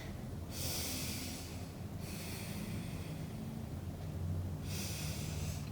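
Slow, controlled breathing of a person holding a side plank during a core workout: two long, clearly audible breaths, close to the microphone, over faint background noise.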